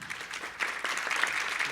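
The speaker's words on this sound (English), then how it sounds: "let's give another round of applause for our speakers" A meeting audience applauds its speakers with a steady, dense patter of many hands, fairly close and even throughout a short burst, with no talk over it.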